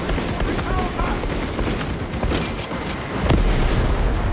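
A heavy weapon fires in Space Marine 2: loud, sustained bursts of rapid gunfire and booms pound steadily, swelling near the end, with a voice speaking faintly underneath.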